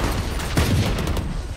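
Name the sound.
gunfire in Valorant video game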